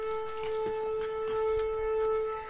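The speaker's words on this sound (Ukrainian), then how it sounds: "У нас почалася сирена, задовбала." Air raid siren sounding during wartime in Ukraine, a steady sustained wail carrying at moderate loudness across an outdoor garden setting, with faint background noise and no talk.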